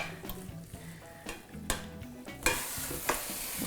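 Seasoned pork going into hot oil for pork tacos, a sizzle building with a few sharp bursts and clattering pan knocks, loudest toward the end as the hiss rises.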